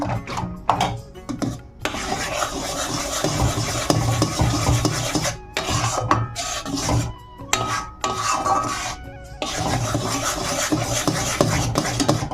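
A spoon stirs milk that is nearly boiling in a pot, making repeated scraping and rasping strokes close by, with brief pauses between the bursts of stirring.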